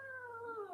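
A house cat gives a single short meow, clear and fairly close, with a slightly falling pitch and a faint hum in the background.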